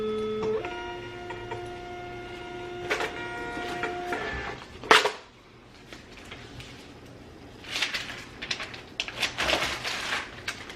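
A label printer prints a shipping label, with a steady mechanical whine and feed stepping, then clicks, a sharp clack and scattered rustling as the label is handled, nearby and without talk.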